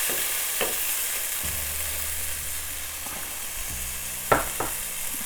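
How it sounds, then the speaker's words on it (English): Peas and onion fry in a pan for muttar pulao, a steady close sizzle with occasional stirring clinks and scrapes and a low hum running underneath. "We're adding our peas."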